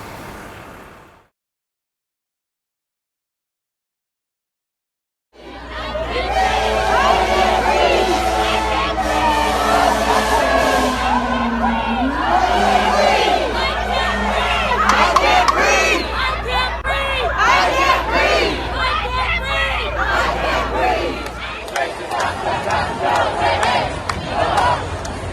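A large crowd at a protest event in Harlem, New York City, chanting and shouting loudly together in waves after a short silence, with a sustained roar that eases slightly near the end.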